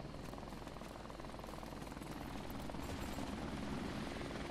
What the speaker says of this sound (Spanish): Por lo menos, mira, que vaya haciendo faenita el helicóptero.